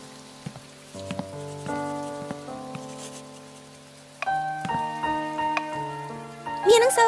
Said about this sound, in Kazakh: Мұнда жаңбыр жауып тұр.